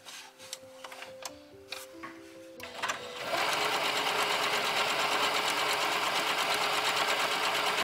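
A sewing machine stitches fabric for an 1870s Victorian bustle dress, starting after a few soft clicks and then running steadily and loudly close up without pause.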